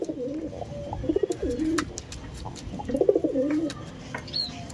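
Giribaj pigeons in a loft give soft, throaty cooing in two rolling bursts close by, with scattered clicks and faint background noise around them.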